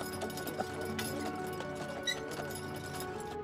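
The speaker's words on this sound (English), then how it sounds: "enjoy an evening wagon ride around the ranch with your Percheron draft horses, Sam and Charlotte, leading the way." Percheron draft horses pulling a wagon on an evening ranch ride in Montana, steady clip-clop of hooves with wagon rattle and creaks, close and continuous.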